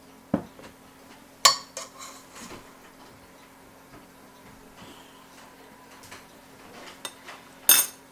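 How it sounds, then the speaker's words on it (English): Chocolate chip cookie dough is scooped into small balls with a spoon, giving sparse clicks and taps of metal against a bowl, quiet and close with pauses between scoops. "take a spoon and put this in little balls"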